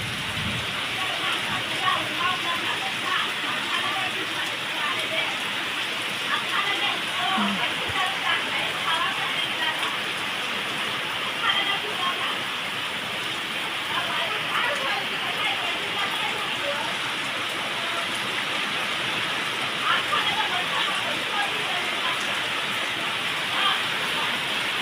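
Heavy rain pours onto paddy fields in a steady, dense hiss that never lets up, loud and even from start to end.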